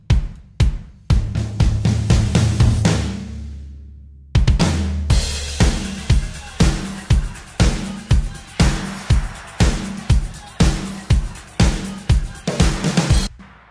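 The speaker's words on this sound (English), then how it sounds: "we have some drums that sound really good, have a lot of impact, have a lot of punch" A programmed pop-country drum kit with a human feel plays a punchy, steady groove of kicks, snares and cymbals, loud and alone, with a brief pause before the beat resumes fuller.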